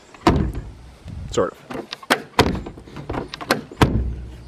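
The door of an abandoned Mercedes 300CD shuts with several sharp thunks and latch clicks, close and loud, while someone speaks briefly between them.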